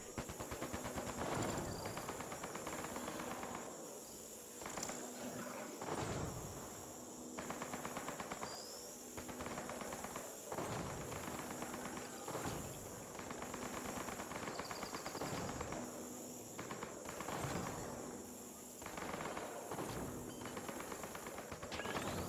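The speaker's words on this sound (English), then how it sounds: "Turn those turrets on Meriwether's men" Turrets fire in the Mass Effect Andromeda video game during a combat mission, sustained rapid automatic bursts with brief gaps, loud and dense over a steady hiss, no talk.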